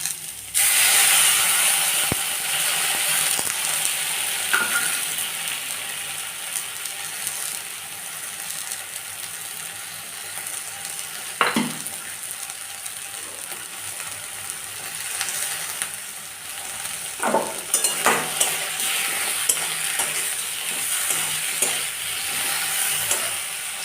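Ground spice paste frying with potatoes and eggplant for shukto, a constant close sizzle with occasional scrapes and clatters of a spatula stirring, growing busier toward the end.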